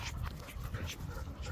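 Dogs, including a small frightened puppy, give low panting and whimpering sounds close by. The noise is dense and continuous, with no clear talk over it.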